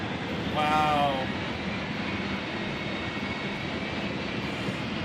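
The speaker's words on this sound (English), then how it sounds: "it sounds like an F-16 prepping for takeoff, but it's a freaking truck!" A jet engine-powered truck roars with a steady, loud, broadband jet-like rush that holds throughout, a brief whine swelling near the start as people talk over it.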